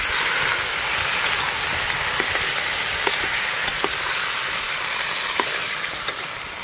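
Onion and tomato sizzle with chicken in a hot pan, a steady close-up hiss broken by a few light clicks as the food is stirred.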